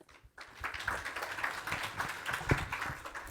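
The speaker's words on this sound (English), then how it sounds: "Let's give a warm round of applause." An audience at a university security and privacy symposium paper session applauds a presenter, a dense, even wash of clapping from many hands that sets in after a brief pause and holds steady.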